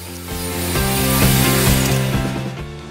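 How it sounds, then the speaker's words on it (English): A power saw rips a pine board with a loud, close whine that rises into a harsh tonal cut and then eases off over a few seconds. "first I ripped the pine to about 2 inches wide and a half an inch thick"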